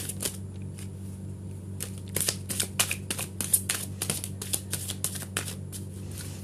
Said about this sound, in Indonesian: kita ulang lagi shuffle kartunya